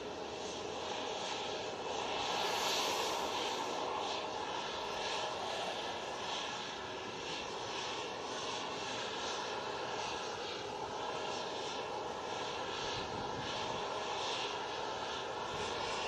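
A KLM airliner at Manchester Airport gives a steady, fairly loud engine roar and rushing noise lasting throughout, with no talk over it.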